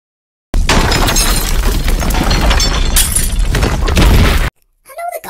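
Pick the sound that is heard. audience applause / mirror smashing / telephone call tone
mirror smashing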